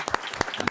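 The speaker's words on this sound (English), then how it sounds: "and a big applause." Brief scattered audience applause at the close of a talk on the future of sex work in Amsterdam, a few distinct claps heard faintly and spread out over less than a second.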